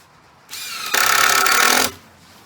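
A power drill drives screws into 1x4 bracing on a sailboat transom support, a short whine rising into a loud, steady high-pitched burst of about a second before cutting off, with no talk.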